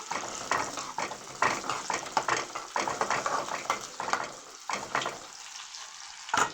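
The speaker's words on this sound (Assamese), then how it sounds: "পিঁয়াজখিনি অলপ ৰঙচুৱাকৈ ভাজিম" Onions frying in a hot pan, browning as they cook, with crackling sizzle broken by repeated stirring and scraping strokes of a spoon against the pan in an irregular rhythm, close up and with no talking.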